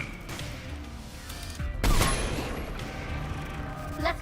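Gunfire in the video game Mass Effect 3: a burst of sharp, loud shots and a heavy impact crack mid-clip, set against a constant low rumble with faint mechanical noise.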